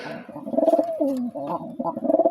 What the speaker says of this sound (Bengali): এই যে আমার কবুতর